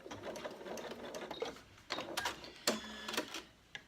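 A sewing machine stitches a zipped pocket into bag lining with a short backstitch, whirring in quick close bursts of needle chatter separated by brief pauses.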